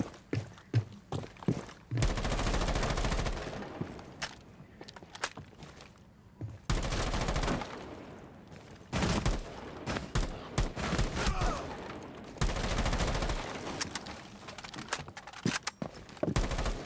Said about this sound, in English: I'm literally shooting you in the head, bro.